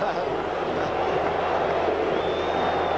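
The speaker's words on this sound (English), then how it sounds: "Listen to the crowd." A ballpark crowd at Game 2 of the 1980 World Series between the Royals and Phillies, a loud, steady wash of murmuring and cheering voices filling the stadium, with an announcer talking over it.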